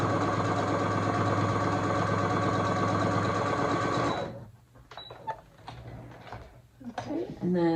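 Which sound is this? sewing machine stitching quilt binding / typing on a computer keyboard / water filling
sewing machine stitching quilt binding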